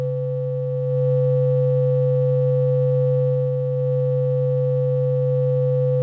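Two sine waves run through a software emulation of the ModAmp module, giving a steady sustained tone with a strong low fundamental and a ladder of even harmonics, fading in at the start and holding constant, alone without speech.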